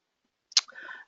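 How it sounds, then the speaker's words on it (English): A single mouse click in food-processing production planning software, a sharp near click followed by a brief soft rattle, alone in a quiet room. "click across to the scheduling tab"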